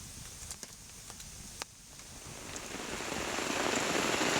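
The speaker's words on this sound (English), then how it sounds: "Listen to that rain coming down." Heavy rain near Lake Timiskaming and the Ottawa River, beginning with a few scattered drops and taps, then swelling into a loud, dense, steady downpour.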